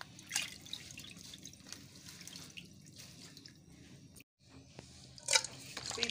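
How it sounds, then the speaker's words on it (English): Water splashes and drips irregularly as ogbo leaves are washed in a basin for vegetable soup, with close, quiet trickles and a brief sharper splash near the end. "Make sure you add enough of water to wash your ogbo so that anything like sand, anything that are not good will go down"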